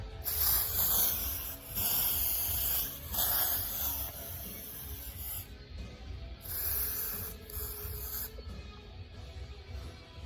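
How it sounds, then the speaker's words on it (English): An aerosol can of glitter spray sprays in several long hissing bursts with short pauses between, close by and steady. "It is glitter spray."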